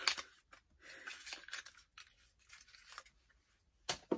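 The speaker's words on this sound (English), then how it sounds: "so I'll just rip the package" A cosmetics package is torn open by hand in a quiet room, a series of faint crinkly ripping and crackling bursts spread across a few seconds, with a sharper snap near the end.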